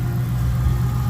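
A muscle car engine tuned to around 500 horsepower idles in a steady, deep, close rumble with no talking over it.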